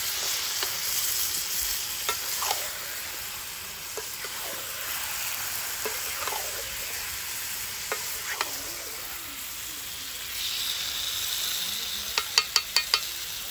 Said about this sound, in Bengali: ভালোভাবে খুন্তি দিয়ে নাড়লে বেশি সুন্দর হবে